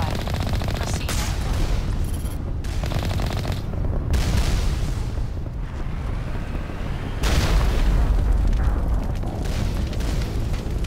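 Sustained rapid gunfire in the video game Mass Effect as mines are shot, with dense continuous shots and booming blasts throughout, loud and close.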